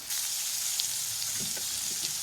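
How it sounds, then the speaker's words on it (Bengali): Carrot pieces sizzle steadily in a hot pan for chow mein, a close, continuous frying hiss with a few soft stirring knocks, no talk. "ক্যারটটা দিয়ে দিচ্ছি গাজরের টুকরোগুলো দিয়ে ভালো করে মিক্স করে একটু ভেজে নেবো"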